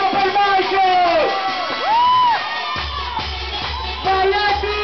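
Festival crowd at a cathedral-square party cheering, whooping and shouting for a performer, with an announcer's amplified voice calling over the loud, continuous roar.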